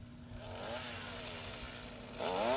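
A chainsaw runs close by while outlining the beard on a wooden gnome carving, a rough, buzzing engine drone that holds fairly steady and then revs up louder near the end.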